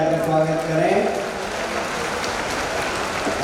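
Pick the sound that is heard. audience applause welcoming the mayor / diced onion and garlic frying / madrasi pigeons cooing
audience applause welcoming the mayor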